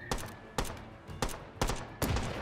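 Gunshots fired in the VR shooter Hot Dogs, Horseshoes & Hand Grenades: five sharp, separate bangs spaced roughly half a second apart, each ending in a short ringing tail, close and loud with no talk over them.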